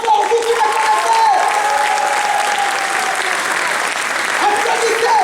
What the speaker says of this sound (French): Applaudissez très fort, vous qui me connaissez.